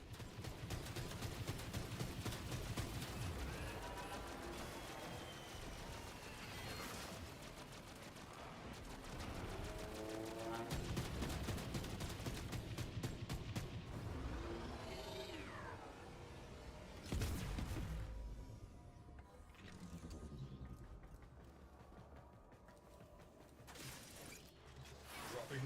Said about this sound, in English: Arming torpedoes. Locking onto their signature.